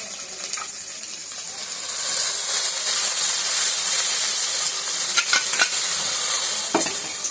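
Spices and garlic fry and stir in hot oil for fish-roe curry, a steady close sizzle and hiss that swells louder after the first couple of seconds, with occasional scraping clicks of a spoon.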